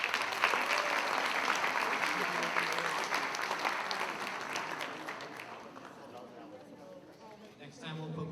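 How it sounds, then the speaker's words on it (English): Crowd applause at a school career and technical education awards event, steady clapping from many hands that slowly fades out, with voices and murmuring coming up near the end. "Again, all you CTE, round of applause."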